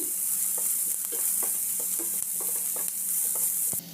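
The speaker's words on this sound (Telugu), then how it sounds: "గ్యాస్ హైలో పెట్టుకొని ఫ్రై చేయాలి" Cabbage, carrot and capsicum with spring onion stir-fried over high gas flame, a steady loud sizzle with repeated scraping strokes of the spatula roughly every half second, no voices.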